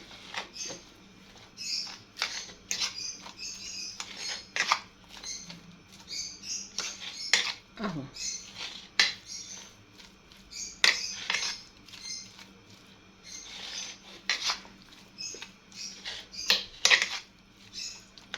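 Utensil scraping and clinking against a pan while food is stirred in olive or corn oil, with irregular light metallic taps and scrapes recurring steadily at close range over a faint low hum.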